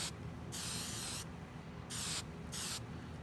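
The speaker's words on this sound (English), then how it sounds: "So now I'm just taking a can of women's hairspray, and we're just going to give it a quick little spritz over the top here" A can of women's hairspray is sprayed over the side skirts of a 1/35 Panzer IV Ausf H model kit in three short, close hissing bursts of about half a second to a second each, with no talking.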